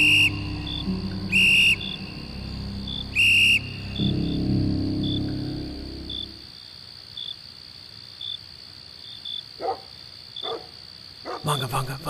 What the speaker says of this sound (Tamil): செக்யூரிட்டி அரை மணிக்கு ஒரு தடவை விசில் ஊதிக்கிட்டே வருவான்